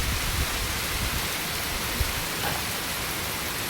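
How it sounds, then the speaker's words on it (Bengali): Heavy rain falls hard and steady in a dense, even hiss of drops striking surfaces, loud and close, with no voices. "আর বৃষ্টিটা কত জোর এসছে দেখুন।"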